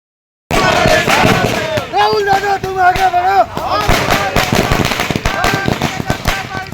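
Rapid crackling bursts of firecrackers pop in dense, irregular volleys, loud and close, with voices and cheering of political party workers celebrating outside an office in Chandwad mixed underneath.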